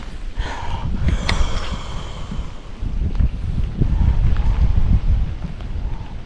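Wind buffeting the microphone while bank fishing for crappie on choppy water, a steady low rushing roar with gusty swells, fairly loud and close throughout.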